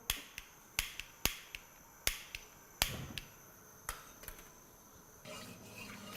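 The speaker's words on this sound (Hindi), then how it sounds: "उसके बाद इस तरह से अपना चूल्हा ऑन करें।" Gas stove burner being switched on in a home kitchen while cooking a chicken sandwich: a series of sharp, isolated igniter clicks, some louder than others, close by with quiet background and no talking.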